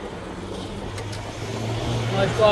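A car passes on a city road near a delivery rider, its engine rumble swelling steadily louder as it approaches, with speech and traffic noise in the background.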